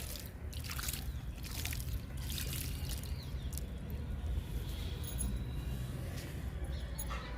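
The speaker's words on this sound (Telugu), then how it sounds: "వాటర్ ఇస్తున్నా బెండ మొక్కకి." Water trickling and splashing onto young okra plants in a home vegetable garden, a steady low gurgling pour heard close up with no talking.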